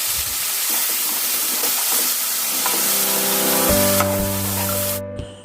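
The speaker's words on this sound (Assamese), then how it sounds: "আৰু এয়া নহৰু আৰু পিঁয়াজৰ পেষ্ট। এতিয়া এইখিনি অলপমান লৰাই লওঁ।" Garlic and onion paste, ground with melon seeds and cashews, fries and is stirred in a pan for shahi paneer, giving a loud continuous sizzle with scraping strokes; a steady tone rises near the end.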